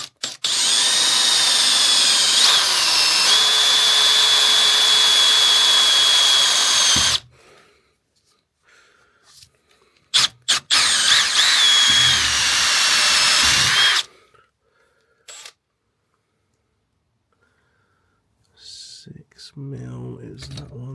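A power drill with a step drill bit boring holes in a Discovery 3 boot camping drawer build, a loud sustained whine that shifts in pitch, then stops and starts again in a second long burst, with quiet gaps and faint handling noise between.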